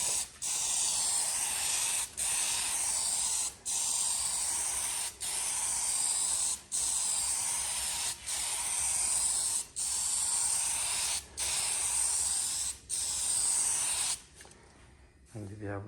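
A spray gun hisses paint onto a car bonnet in about ten long, steady bursts, each cut by a short pause, loud and close, ending in a quiet clunk.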